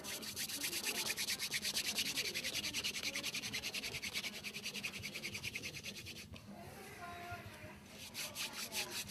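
Bow drill spindle of mock orange wood rubbing back and forth on a cedar fireboard, a rapid rhythmic rasping stroke repeated steadily at close range, briefly pausing before resuming.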